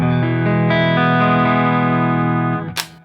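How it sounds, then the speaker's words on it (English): A sustained electric guitar chord rings through a Walrus Fundamental Drive overdrive pedal, lightly overdriven, thick and steady, then cuts off with a brief scratchy string noise at the end. "it has a very sort of edge of breakup sort of character, where it's pretty clean with the light touch"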